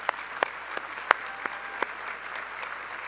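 An audience at a Rotary International Assembly applauds President Jennifer Jones, with steady dense clapping across the whole stretch and a few sharper claps standing out, with no talking over it.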